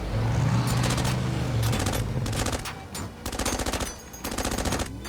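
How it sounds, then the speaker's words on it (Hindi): Sniper gunfire in an animated sci-fi action film, heard as rapid bursts of loud automatic shots in rattling volleys over a low vehicle-like rumble. "Sniper fire 11 o'clock।"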